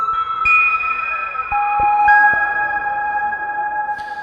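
El Piano preset on an Ensoniq ESQ-1 synthesizer, a few sustained electric-piano notes played one after another, each holding a steady pitch with light key clicks at the onsets, close and clean with no talking.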